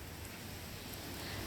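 Steady rain from Hurricane Dorian in Lake County, Florida falls as a constant broadband hiss, fairly faint and continuous with no voices.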